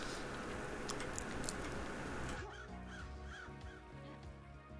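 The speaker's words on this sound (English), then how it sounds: "That's a lot of birds." Birds honk in the video game Paradise Killer, a few short rising calls standing out after a dense, noisy wash fades, fairly faint within the game's ambient soundscape.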